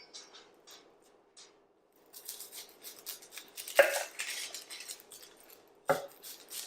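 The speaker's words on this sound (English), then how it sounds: "Next, I'm going to chop an onion." An onion is chopped on a cutting board for Brunswick stew. Faint, scattered knife taps are followed by a couple of sharper knocks against the board, all quiet and close.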